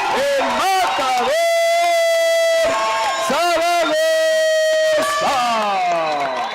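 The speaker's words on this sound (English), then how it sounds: "A lot of crowd noise." Crowd cheering at a fight event, a steady roar of cheers and shouts sitting beneath a loud announcer's drawn-out calls that dominate the foreground.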